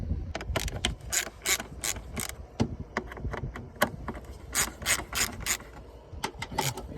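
Ratchet with a 10 mm socket turning air box bolts on a 2000 Nissan Maxima 3.0: close, rapid clicking strokes repeat in quick uneven bursts, each a short run of pawl clicks, with no talking.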